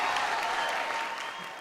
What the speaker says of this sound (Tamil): உங்களுடைய கரகோஷம்லாம் அவருக்கு இன்னும் சிறப்பாக பேசுவதற்கு ஏதுவாக இருக்கும்.